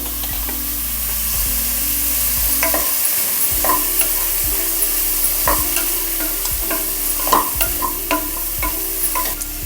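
Chilli powder and garam masala frying in a pan for beetroot kurma, a loud continuous sizzle with a low steady hum beneath and frequent sharp spoon scrapes and clinks close by.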